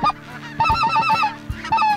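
A small flock of five specklebelly geese on a duck and goose hunt gives loud, repeated honking calls in quick overlapping bursts, close overhead with no talk over them.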